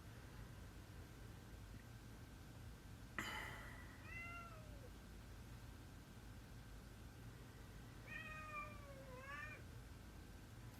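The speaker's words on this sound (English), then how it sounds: "my cats are just outside saying, no, we want more food" Cats meowing outside for food, a few faint, drawn-out meows spread apart over steady background hiss, with a louder cluster of calls near the end and no talking.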